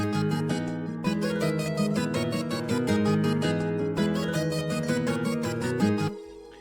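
A synth track with a sustained pad under a bright, rhythmic lead melody, steady and loud throughout, cutting off near the end.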